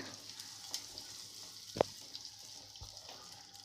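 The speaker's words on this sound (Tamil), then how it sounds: "ஒரு பாதி பெரிய வெங்காயத்தை பொடியாக கட் பண்ணி இது கூட சேர்த்து நல்லா வதக்கி விட்டுருலாங்க." Finely chopped onion sautés in hot oil for a green gram sundal: a quiet, steady sizzle with a few soft stirring clicks and one sharper knock partway through.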